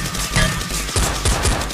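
Toy Nerf guns firing in a team Nerf war game, heard as dense, loud bursts of rapid shots in quick succession that fill the whole moment with no talking.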